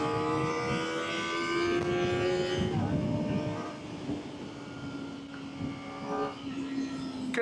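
A Kawasaki ZX6R motorcycle engine drones steadily while riding, a strong tonal whine with layered harmonics that holds, drops in pitch as the rider eases off, then builds slightly again amid wind rush.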